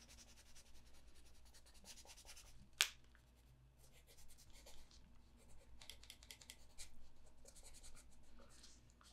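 A watercolor pencil sketching and filling dark areas on paper in a sketchbook, soft close scratchy strokes in short bursts with one sharp tap, quiet and without voices.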